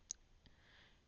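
A single faint, crisp computer mouse click sounds close, followed by a softer second tick, with no voice.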